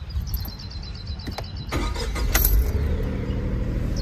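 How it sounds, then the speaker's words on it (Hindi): A 2023 Tata Nexon XMS car starts up, a brief electric whir giving way to a steady engine idle that fills the rest, close and fairly loud with no talking. "तो चलो गाड़ी को स्टार्ट करके एक बार दिखा देते हैं,"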